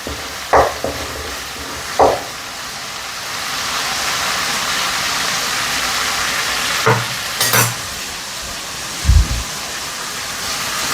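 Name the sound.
roasting in a pan before adding chicken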